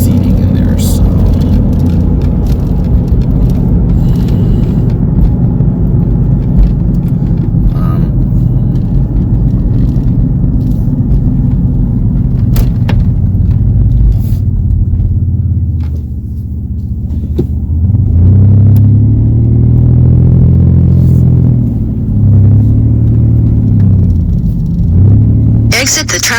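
Steady low road rumble of a car driving through Indianapolis city streets, continuous and fairly loud throughout, with someone talking over it for most of the stretch.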